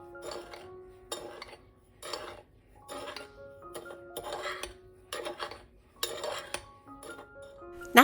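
Salt and sugar being stirred together in a bowl for cured gravlax, a run of repeated scraping, clinking spoon strokes against the bowl in short rhythmic bursts, fairly quiet and close.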